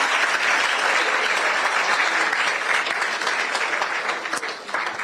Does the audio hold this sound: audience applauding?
yes